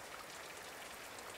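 Rain falling steadily in a garden, a dense even hiss of drops that stays faint and constant, with no voices.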